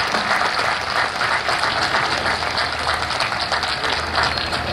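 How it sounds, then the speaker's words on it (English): A steady, dense wash of applause from a large graduation crowd honoring parents and family, even and sustained throughout without speech. "I invite you to acknowledge them with a round of applause"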